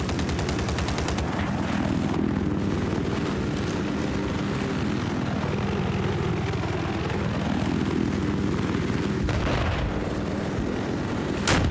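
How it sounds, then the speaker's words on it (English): A helicopter rotor thrums and whirs continuously at close range in a 16v16 video game battle, a dense mechanical roar with engine tone shifting midway and occasional booming impacts underneath. "attacking the boss chopper"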